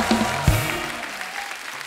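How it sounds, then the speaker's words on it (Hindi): Studio audience applauding guests on a Hindi celebrity talk show, a short burst of clapping with a sharp peak early on that settles into a steady wash of applause. "जोरदार तालियां हो जाए हमारे मेहमानों के लिए।"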